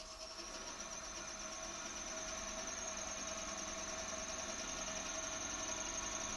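A wood lathe spins a bowl blank freely before cutting, giving a steady whirring hum with faint tonal whine and slight vibration, constant and unbroken throughout with no speech.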